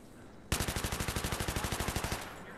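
A video game M249 light machine gun fires one sustained burst of about twenty evenly spaced, loud, sharp shots lasting roughly a second and a half.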